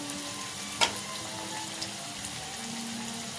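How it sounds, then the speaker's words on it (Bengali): Veg chicken pakora made with thick-cut cabbage frying in oil over a low flame: a soft, faint steady sizzle with one sharp clink near the start, no voices. "কম আঁচে কিন্তু ভাজতে হবে গ্যাসটা জোরে দিয়ে যদি ভাজা যায় তাহলে কিন্তু ভিতরে কাঁচা থেকে যাবে"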